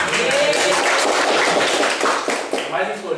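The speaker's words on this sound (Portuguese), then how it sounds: "palmas pra gente." Steady, dense clapping from a crowd, a continuous patter of many hands, loud and close, with voices mixed in.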